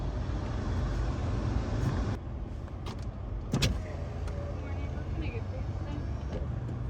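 A car idling on a freezing morning, a steady low engine rumble filling the cabin with a few brief clicks and knocks over the top.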